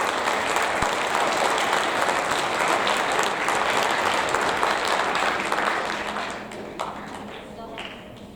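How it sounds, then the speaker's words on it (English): Applause from an audience at a 7th grade awards ceremony, steady clapping that tapers into a few scattered claps, with faint voices underneath. "let's give them one more round of applause"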